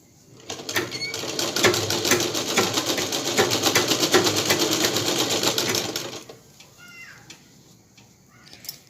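A sewing machine stitches a lungi in a fast, steady mechanical whir that runs for about five seconds before dropping to quieter handling noise and a few small clicks.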